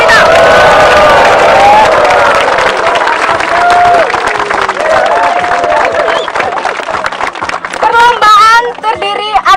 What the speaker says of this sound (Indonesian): berikan tepuk tangan yang meriah buat lomba panjat pinang